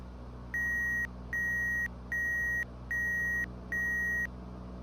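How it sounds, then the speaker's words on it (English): Five evenly spaced electronic beeps sound from a flight simulator cockpit during a VOR navigation approach, each about half a second long, clear and moderately loud over a low steady engine hum. "Five beeps, no idea what that means."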